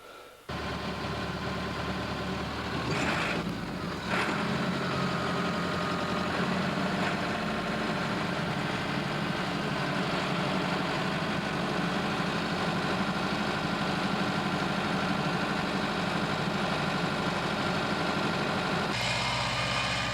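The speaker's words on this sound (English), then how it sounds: "All-terrain vehicles, like this muskeg, can get men and materials to the most out-of-the-way places." A muskeg all-terrain vehicle engine runs steadily in a forest, a loud continuous idling rumble that starts abruptly and holds with little change, with a couple of brief knocks partway through.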